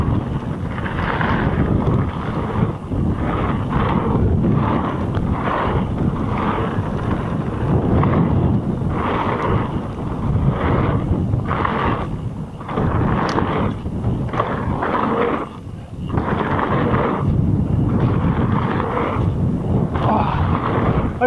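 Strong wind buffets the microphone on a bike park jump line, a steady roaring rumble that fills the whole stretch with only brief dips and no clear voices.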